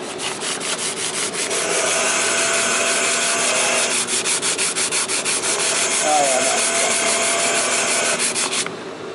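Rapid back-and-forth hand scuffing of a surface, likely sanding, runs steadily for about nine seconds as a close, even scratching with rhythmic strokes, then stops abruptly near the end.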